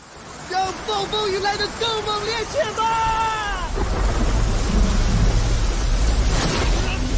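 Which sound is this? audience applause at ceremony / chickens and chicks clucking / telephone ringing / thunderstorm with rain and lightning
thunderstorm with rain and lightning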